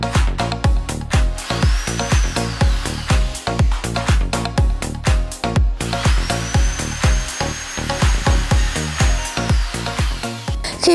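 A Bosch GSB 550E impact drill runs in rapid repeated bursts, a loud whining motor with quick rhythmic pulses and rising and falling pitch, alone with no voices.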